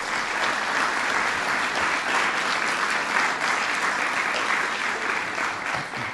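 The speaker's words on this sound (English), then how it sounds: "Please give them a big round of applause." An audience gives a big round of applause, loud, dense and sustained clapping from many hands that continues unbroken from start to finish.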